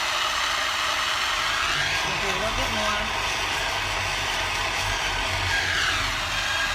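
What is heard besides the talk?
road construction equipment being moved outside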